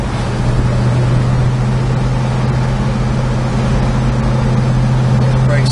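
A 1964 Chevrolet El Camino, tight and solid with no rattles, cruises along a road at about 40 mph, giving a loud, steady engine and road drone with a constant low hum throughout.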